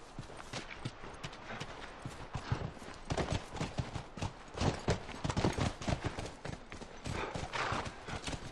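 Horse hooves clip-clop in a steady, busy rhythm in the video game The Last of Us, several animals moving together, loud and close.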